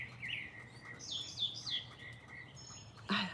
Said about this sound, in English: Listen to those birds, they're so cute.